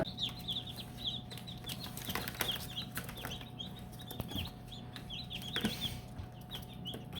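Newly hatched meat chicken chicks peep in rapid high chirps over a steady low incubator hum, continuous and close, with a few soft bumps and rustles and no talk.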